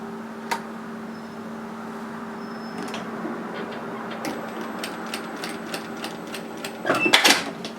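A sewing machine stitches elastic onto the edge of a wide fabric headband in contrast thread: a steady low motor hum with faint ticking stitches, and a louder rattling run of stitching near the end.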